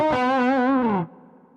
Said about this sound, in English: This parameter here is like some kind of distortion. It's gain. If I turn the gain up,